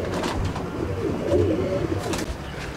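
Chennai breed pigeons cooing in a loft, soft low murmuring coos from nearby birds, a brief burst of calls near the middle over a faint background.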